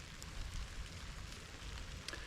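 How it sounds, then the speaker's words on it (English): Rain patters steadily on a bushcraft camp, a soft even hiss with scattered small drop ticks, moderately faint and without anyone talking. "Could just do with this rain begging off for a little bit,"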